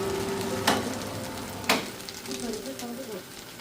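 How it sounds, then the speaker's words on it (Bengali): Polao rice frying in oil for khichuri in a home kitchen, a steady close sizzle with two sharp scraping stirs of the spoon through the grains. "খিচুড়ির জন্য পোলাওটা ভেজে নিচ্ছে পোলাও চালটা"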